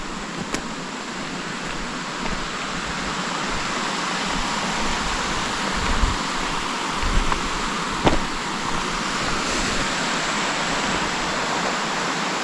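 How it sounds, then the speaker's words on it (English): A small but pretty waterfall on Tyndon Creek beside a Pacific Crest Trail footbridge pours in a constant broadband roar, with a few faint clicks and bumps near the listener. "More than a little waterfall. It's kind of a pretty waterfall."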